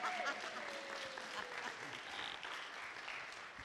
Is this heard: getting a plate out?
no